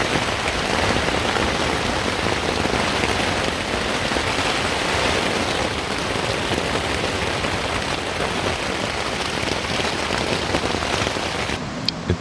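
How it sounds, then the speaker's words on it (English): Heavy rain drums steadily on a tent during a moto-camping night in the Jawadhu Hills of Tamil Nadu, India, a dense, loud, continuous hiss of drops with no break from start to finish. "It's raining like shit and I'm in my tent right now"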